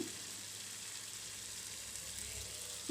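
Ground cumin paste fries with other spices in oil, producing a faint, steady sizzle that holds evenly throughout with soft stirring bumps.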